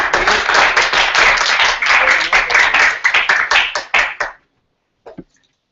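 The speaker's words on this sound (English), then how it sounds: "Let's give them big cheer." A school audience claps enthusiastically for a grade 4 class's play at a science fair. The dense, steady applause lasts about four seconds, then fades into a brief pause and a couple of stray claps.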